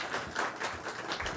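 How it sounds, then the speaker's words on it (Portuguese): An audience at the Mostra Científica de Administração, a student academic showcase, applauds Júlia, giving a brief, faint wash of dense clapping. "Queria pedir uma salva de palmas para a Júlia."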